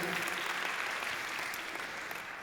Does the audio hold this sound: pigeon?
no